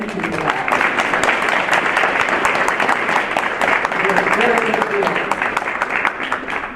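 An audience at a fall campus keynote lecture claps and cheers. The hand-claps are brisk and closely packed, with a few voices rising above them, and the sound holds steady before easing slightly near the end.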